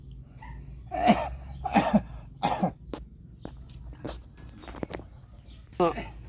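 Several harsh coughs from a nearby person who is struggling to cough, in bursts spaced across a few seconds, with a weaker cough and a throat-clearing sound near the end in an indoor home setting.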